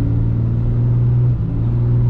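A Dodge Ram pickup on 37-inch tyres pulls away with a steady, loud, close engine drone, the tone holding level with a brief dip like a gear change.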